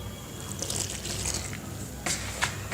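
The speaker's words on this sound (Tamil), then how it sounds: "இப்போ கொஞ்சம் கொஞ்சமாக தண்ணி ஊற்றி பிணையலாம்." Water trickles in small amounts into a ragi flour and onion mix for pakoda, a faint, brief pour with a few splashy bursts near the end.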